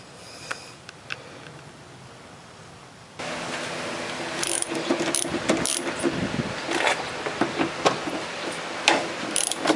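Metal tools and bolts clinking while bolts are removed from the fender of a 1977 MGB Roadster; quiet at first, then a run of close, sharp metallic taps, ratcheting clicks and rattles.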